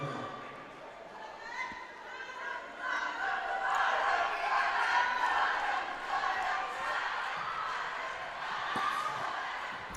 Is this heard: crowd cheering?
yes